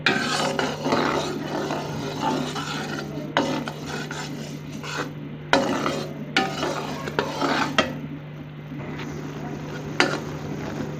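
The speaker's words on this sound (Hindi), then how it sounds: "दो से 3 मिनट हो चुके हैं गुड़ को पकते हुए।" Jaggery cooking in a pan over a medium flame, giving a steady close rasping, bubbling sizzle with a constant low hum and occasional clatter or stirring scrapes, no voices.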